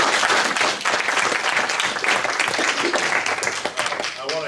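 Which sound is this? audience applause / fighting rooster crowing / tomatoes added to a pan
audience applause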